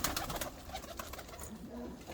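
Black-tailed pigeons coo softly, faint low calls with some light fluttering and scattered clicks in the background, fairly quiet and close.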